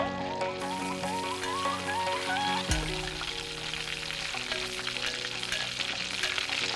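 Onions sizzle and fry in a hot pan while Indian food is cooked, a steady crackling hiss that runs through the clip beneath background music, with a sharp clatter partway through.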